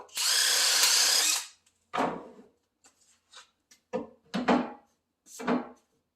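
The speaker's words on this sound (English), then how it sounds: "So I drill 3/8 holes here, and all you got to do is drill it." A power drill whirs loudly in one long burst, drilling 3/8-inch holes for cabinet hinges, then several shorter bursts follow, with clattering and small knocks between them.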